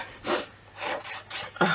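A few short, breathy bursts sound close by, ending in a sharp sneeze-like burst, with no talking.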